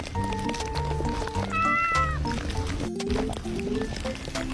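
A cat meows in the Ayla World video game, several short mewing calls in the middle of the clip over steady game music and sound effects.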